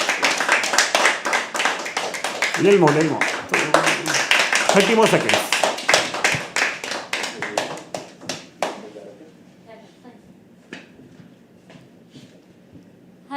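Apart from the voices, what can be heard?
audience clapping at a poetry open mic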